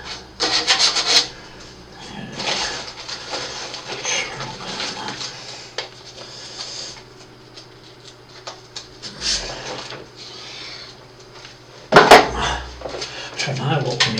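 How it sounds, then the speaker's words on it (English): 1/200 scale Bismarck battleship model parts being sanded with sandpaper: close, scratchy rubbing strokes come in irregular bursts, with handling knocks and a loud rasping flurry near the end. "So now what we need to do is get these bits sanded down."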